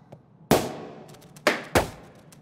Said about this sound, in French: qu'on les terrorise avec des explosions de canons à confetti ou autre